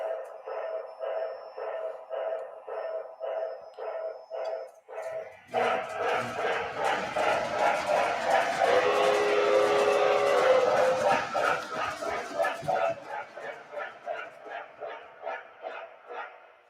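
A K4 steam locomotive model on a layout chuffs in a steady rhythm as it starts to move. Near the middle a loud, sustained whistle blast rises over the chuffing, then the chuffing continues alone.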